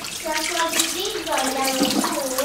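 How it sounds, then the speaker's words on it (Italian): Cold water running from a tap while someone rinses their face at a sink, a continuous splashing rush with a voice heard over it. "E ora mi sciacquo il viso con acqua bella fredda."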